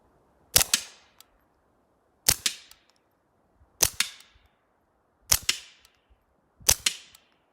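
Five suppressed shots from a Smith & Wesson Model 41 pistol with a red dot sight strike a tire on a steel rim, each a sharp crack with a short ringing tail, evenly spaced about a second and a half apart.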